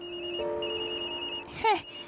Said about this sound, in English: That is the worst phone ring of all time.